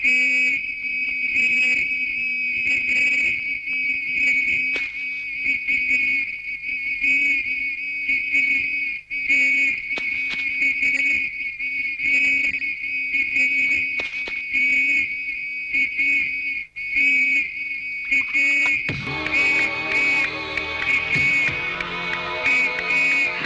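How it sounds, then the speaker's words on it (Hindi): A steady, shrill whistle blows almost continuously for about nineteen seconds in a film scene, then gives way to louder music at the end. "सीटी क्यों बजा रही है?"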